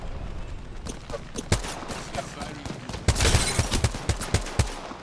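Rapid bursts of gunfire in Apex Legends, sharp cracks and volleys in uneven clusters that grow denser and louder midway, with faint voices in the background.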